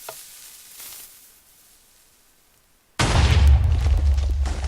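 A Minecraft TNT cannon, the Mark III, fires in the video game: after near silence, a sudden loud explosive boom bursts in at once and keeps roaring as a dense, rumbling blast with sizzling crackle to the end.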